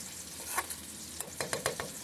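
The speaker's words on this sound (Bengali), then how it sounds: "পানিও টেনে আসছে আর ভাজিটাও হয়ে আসছে।" Water spinach greens fry in a pan with a soft, faint sizzle, broken by a few quick scraping stirs near the end of the short stretch.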